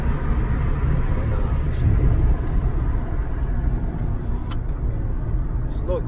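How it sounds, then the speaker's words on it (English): Steady in-car road rumble from a car being driven at night, with continuous low tire and engine noise and a few faint clicks and rattles near the end. "So I'm driving over there right now."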